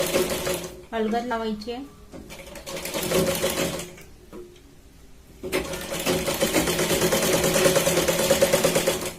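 A sewing machine runs steadily as it double-stitches a sleeve onto a katori blouse, its rapid mechanical whirring pausing briefly midway before resuming louder, while someone talks over the start.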